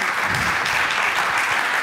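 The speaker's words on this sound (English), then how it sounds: "Let's give them a round of applause." Steady applause from an audience at a fitness industry conference, a continuous wash of many clapping hands at an even level, with a few voices faintly underneath.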